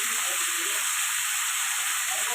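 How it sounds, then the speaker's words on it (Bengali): Papaya and potato with salt in a frying pan, giving off a steady, bright hissing sizzle that fills the whole stretch without breaks. "পেঁপে আর আলুটা আমি একটু নুন দিয়ে একটু নাড়াচাড়া করে নেব"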